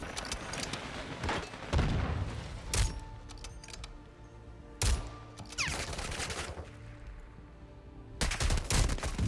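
Sniper rifle shots in Warzone, comparing the MCPR-300 and FJX Imperium: four loud, sharp single cracks spaced a couple of seconds apart, each with a booming tail, over a steady game-ambience background.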